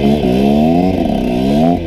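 A KTM SX 125 two-stroke dirt bike engine warming up while cold, idling loud and close with a buzzy tone that rises and dips slightly as the throttle is blipped, no voices over it.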